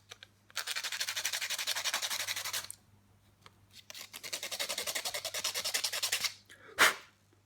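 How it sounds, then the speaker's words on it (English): Sandpaper rubs a small plastic part from a Bandai 1/144 Star Wars Millennium Falcon model kit in two long bursts of fast, rhythmic scratchy strokes, close and clear, followed by a single sharp tap. "And that needs sanding. Where's my sandpaper?"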